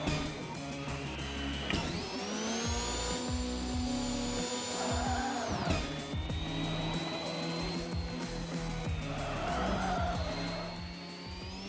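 Car engine in the Screwdrivers video game revving and shifting through gears, with repeated tire skids and screeches over a continuous loud drone, no talk.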